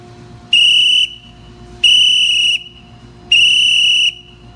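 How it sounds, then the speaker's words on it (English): A playground whistle is blown three times outdoors, each blast a loud, steady shrill tone of about half a second, evenly spaced with short gaps and faint background noise between them. "the assistant that is out there will blow her whistle 3 times."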